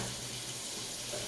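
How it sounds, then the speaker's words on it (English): Hot water running steadily from a tap into a sink, a continuous soft rushing hiss that stays even and fairly quiet throughout, with no voices over it. "Hot water."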